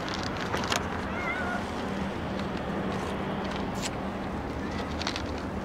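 Pet cats indoors making faint, thin meows scattered over a steady background hiss and low hum, a few brief calls heard at a distance rather than up close.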